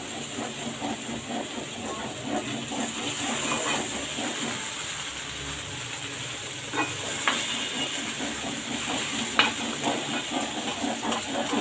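Green okra frying and sizzling in a pan, a steady hiss with occasional stirring scrapes and small clinks, moderately loud and close, with no talking.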